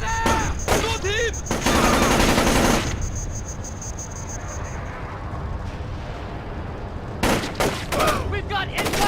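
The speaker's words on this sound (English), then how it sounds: "We've got incoming shots!" Bursts of automatic gunfire in Splinter Cell: Chaos Theory, loud rattling volleys at the start and again near the end, separated by a quieter stretch of low ambience with faint voices.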